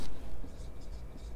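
A pen scratching a measurement value by hand onto paper during a physics lesson, soft close strokes in short bursts over faint room noise.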